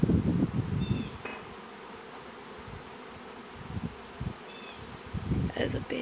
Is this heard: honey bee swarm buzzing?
yes